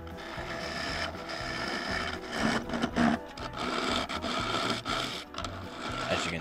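A woodturning tool scrapes across the foot of a spinning claret ash bowl on a lathe, a close, continuous rasping rub with a faint mechanical hum and uneven surges in pressure.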